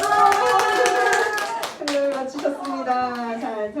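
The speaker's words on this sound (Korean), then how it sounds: "네, 박수!" Clapping breaks out at a church Christmas program quiz after a correct answer, a burst of hand claps from a group mixed with lively voices, including a child's, and music-like tones running underneath.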